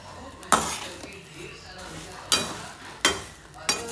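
Peanuts roasting in salt in a pan are stirred in several sharp gritty scrapes and rattles, each followed by a fading rustle. Soft sizzling and low background noise fill the gaps between strokes.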